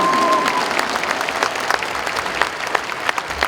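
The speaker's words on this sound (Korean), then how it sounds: "여러분 뜨거운 박수 보내주시기 바랍니다" Audience applause at a commemoration ceremony for Kim Dae-jung's 100th birth anniversary, honoring former president Moon Jae-in, a sustained crowd clapping heard at a distance, even and continuous from start to finish.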